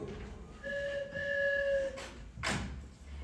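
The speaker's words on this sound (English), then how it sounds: "I was just out on the porch listening to the train whistle." A two-tone train whistle sound effect in a live radio play holds for about a second over low background rumble, followed by a brief sliding or door-like swish.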